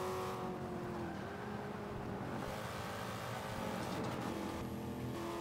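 Chevrolet Camaro ZL1 engine in Forza Motorsport 5, a continuous loud roar that holds steady as the car drives a lap, with slight shifts in pitch and no talk over it.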